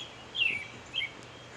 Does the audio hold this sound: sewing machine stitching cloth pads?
no